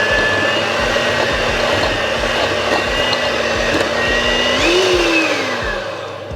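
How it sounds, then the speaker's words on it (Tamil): Electric hand mixer beating soft cheese together with butter for a red velvet cake, a steady loud motor whir with a pitch that rises and dips briefly near the end, running alone without talk. "இப்போ இந்த பட்டரோட சேர்த்து இந்த சீஸையும் மிக்ஸ் பண்ணி நான் அடிக்கிறேன்."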